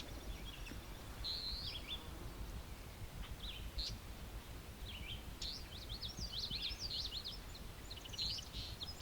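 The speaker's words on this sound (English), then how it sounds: "We got an eastern meadowlark calling. It's not the song, just the call." Eastern meadowlark giving its short bleating call notes, not its song, in a lakeside natural setting: brief repeated high chatters from a moderate distance over steady insect buzz and a low wind-like background rumble.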